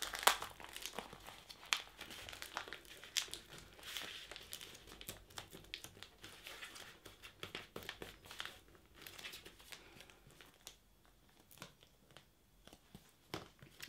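Thick handmade card is folded and pressed down firmly, giving soft, close crinkling and scraping over several seconds, with no talk.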